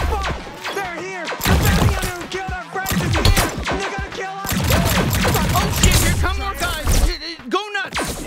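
Rapid gunfire and crashing impacts from the video game High on Life, dense bursts of shots with thuds running almost continuously over game music and effects, loud and close.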